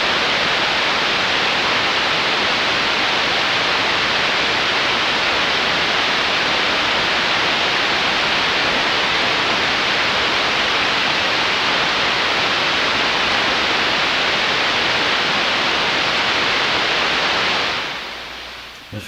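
Loud, constant broadband hiss of static from an SP-600 communications receiver, unbroken for most of the stretch before cutting off abruptly near the end.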